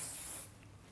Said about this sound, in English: I'm gonna finish off with a shine spray.